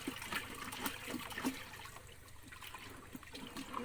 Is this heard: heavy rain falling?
no